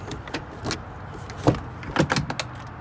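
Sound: Peterbilt truck door opening

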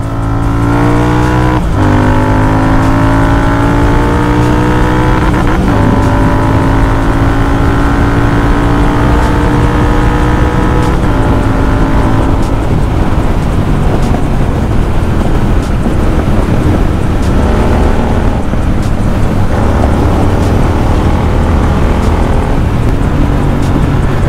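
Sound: Royal Enfield Continental GT 650 with Barrel Atom exhaust revving

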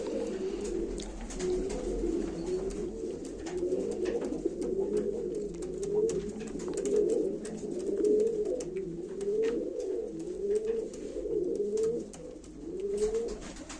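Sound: pigeons cooing at live pigeon auction

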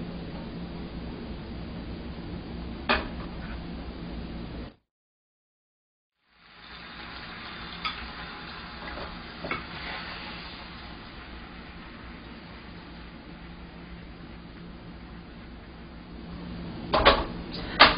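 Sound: beaten egg frying in oil for egg sheet

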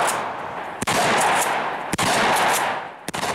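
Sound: gunfire from a weapon, brass casings ejecting

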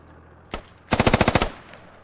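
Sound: heavy machine gun fire in a video game

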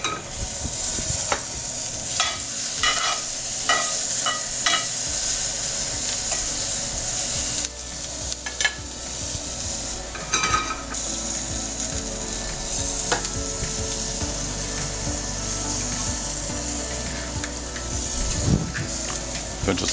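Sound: eggs frying in a hot pan

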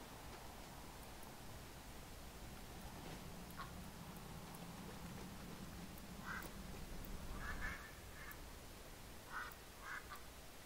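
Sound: duck Quackers quacking after trap duck summon in video game

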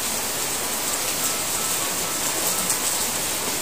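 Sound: rain falling

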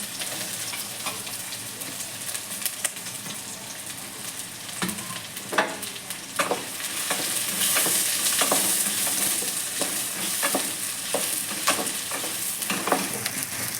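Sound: bay leaf and sliced onion frying in hot oil

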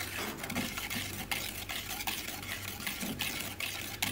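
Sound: whisking lemon juice and baking soda into a paste

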